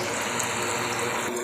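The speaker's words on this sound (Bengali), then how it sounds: "জলটা কিন্তু যেখানে উঠছে সেই জায়গাতে জলটা আবার ফেরত আসছে" A small pump in a homemade air cooler circulates water in a steady, continuous trickling and splashing stream, close and even in level, with no talking.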